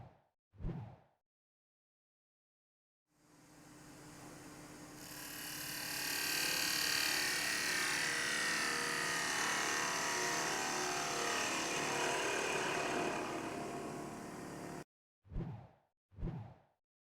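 A wood lathe runs with a sustained whooshing whir as a tool cuts across the face of the workpiece, swelling louder midway and then stopping abruptly, framed by short brushing sounds before and after.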